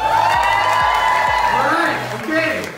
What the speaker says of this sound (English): Everybody clap and cheer as loud as you can